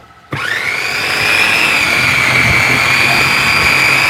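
A Sokany 6-in-1 electric vegetable chopper starts abruptly and runs at a loud, steady motor whine while chopping snake gourd, holding one high pitch close to the microphone with no talk.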